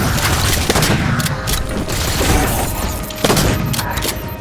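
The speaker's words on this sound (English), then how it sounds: "The biggest change along with the cool model is the sound. It's truly unique and I find it to be a very satisfying sharp sonic burst." A Halo video game shotgun fires sharp, loud bursts, with a couple of distinct blasts and mechanical clicks and rattles between them, close and punchy.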